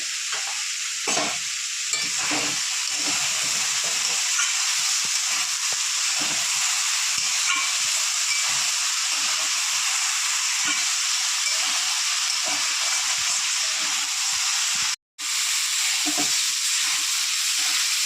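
Sliced banana stem frying in a pan with a little sugar, a loud, steady close sizzle with repeated scraping stirs throughout, a brief dropout near the end, no talk.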